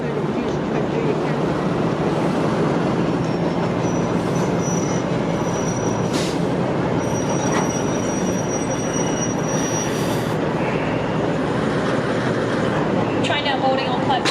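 V/Line diesel train at Geelong station moving off, a continuous loud rumble of engine and rolling wheels with intermittent metallic squeals and clicks, under faint station voices.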